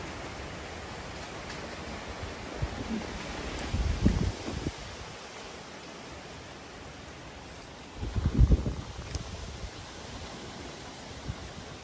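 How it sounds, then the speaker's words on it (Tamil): Strong wind blowing outdoors ahead of rain, a steady broad rushing hiss with two louder gusts rising and falling, no talking. "வெளியில பாத்தீங்கன்னு சொன்னா சரியான காற்றும் காற்றடிச்சு கொண்டிருக்கு"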